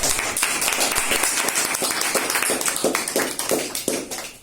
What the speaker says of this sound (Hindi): एक बार जोरदार तालियों के साथ गौरव कुमार का जो है स्वागत